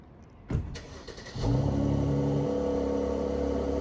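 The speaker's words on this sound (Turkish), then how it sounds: "Arabanın egzozu patlak deniyordu." An old car with a broken exhaust starts up after a couple of sharp clunks, then settles into a loud, rough, steady idle rumble close by.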